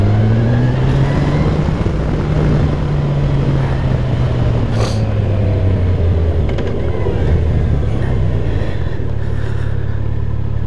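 A car drives through the streets of Atlanta, its engine humming steadily and shifting pitch as it accelerates, with road noise throughout and no talking.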